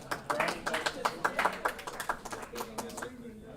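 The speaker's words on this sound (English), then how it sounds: "Clap, clap, clap, clap." Quick, light hand claps at a premiere after party tap out an uneven rhythm, fairly faint, with a voice mixed in.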